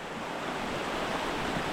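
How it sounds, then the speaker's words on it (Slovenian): Waterfall dropping into a mountain stream below Kepa in the Karavanke's Belca valley, a steady broadband rush of falling water, constant and fairly close with faint wind, no voices. "Evo, tamle gor pada slap."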